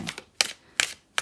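Hand-over-hand shuffling of a True Black Tarot deck, heard as four crisp papery bursts of cards slapping together at a steady rhythm, close and fairly loud, with no talking.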